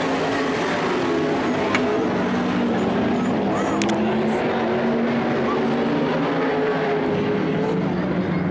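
Sportsman sprint cars run a warm-up lap on a race track, a dense, loud engine drone with wavering pitch that holds steady throughout. Crowd and announcer noise sit faintly underneath.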